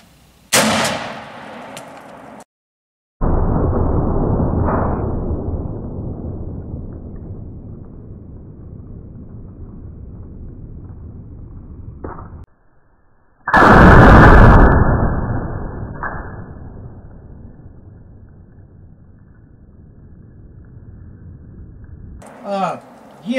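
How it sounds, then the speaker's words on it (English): A 1961 Browning A5 16-gauge semi-automatic shotgun fires low-cost ammunition outdoors, with loud booming shots followed by long echoing decays and a mechanical clack between them. "I'm going to shoot from the hip, guys. Because my arm's killing me. Let's just see if we can hit a couple of things out there."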